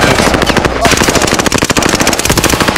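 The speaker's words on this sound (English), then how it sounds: "I'm under fire" Rapid automatic gunfire from Call of Duty: Modern Warfare rattles loud and close in a dense, continuous burst of shots.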